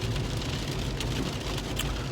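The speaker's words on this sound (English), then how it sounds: "it's raining, rather snowing" Steady rain mixed with sleet spatters on a car while driving on a winter day, a dense, continuous hiss with faint road rumble underneath, close and even throughout.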